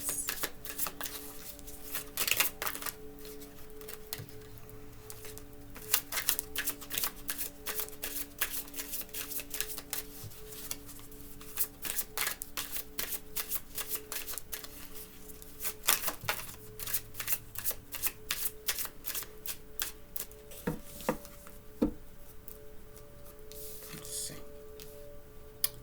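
Tarot cards are shuffled in repeated crisp riffling bursts, close and fairly quiet, with short pauses between shuffles and faint background hum.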